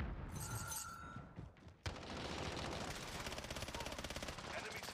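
An enemy sentry gun firing in a video game: after a short, muffled lead-in, a sharp onset gives way to rapid, sustained automatic bursts that rattle on steadily and loudly.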